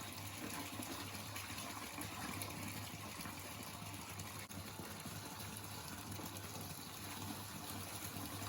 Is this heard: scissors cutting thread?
no